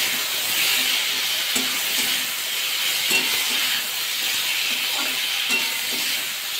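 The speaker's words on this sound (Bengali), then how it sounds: "শিমগুলো ভাজা করে নেব" Flat beans sizzle and hiss in hot oil seasoned with salt and turmeric, a steady loud frying crackle with occasional stirring scrapes throughout, no voices.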